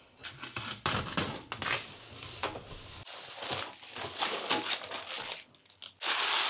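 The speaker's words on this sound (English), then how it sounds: "so I lean the case forward and just peel the film away" Protective plastic film being peeled away from a display case, a stretch of crinkly, crackling tearing and rustling bursts, close and fairly loud, ending in a brief hiss of film coming free.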